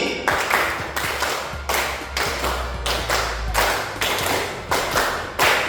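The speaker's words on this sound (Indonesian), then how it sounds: "Kita bertepuk tangan, ikuti perintah yang Bapak bilang. Tepuk 5 3 kali." A classroom of students claps in unison to a counted clapping game, producing sharp, loud group claps in regular bursts about every two-thirds of a second, with no talk over them.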